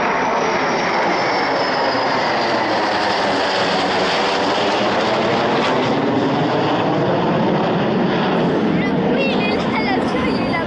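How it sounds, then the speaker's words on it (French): Dassault Rafale fighter jets fly low and slowly over the Bastille Day military parade in Paris, a loud continuous jet roar that fills the whole stretch, with faint crowd voices beneath it. "Ça, c'est quoi ça? Des rafales."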